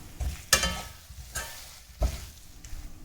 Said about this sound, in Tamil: அந்த சட்டி சூட்டில் தான் இது எல்லாத்தையுமே நம்ம வதக்குறோம்